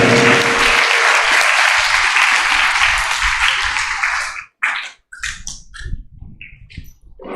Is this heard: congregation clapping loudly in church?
yes